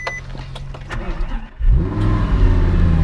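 Audi R8 V10 starting up: a short electronic beep and quiet cabin noise, then the engine catches at about halfway with a loud, deep bark and settles into a strong idle close by.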